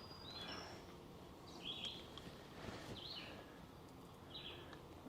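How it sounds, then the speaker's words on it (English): Birds chirp in short, bright bursts at intervals against a low, steady background hiss; the calls sound moderately distant and there is no talking. "Listen to the birds."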